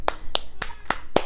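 Five sharp, distinct hand claps at an uneven pace, close and crisp, each one short with quiet gaps between.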